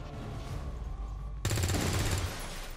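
Automatic gunfire in XCOM 2 crackles loudly in a sustained burst over a dense game backdrop, with a brief lull before a sharper, brighter volley of rapid shots takes over.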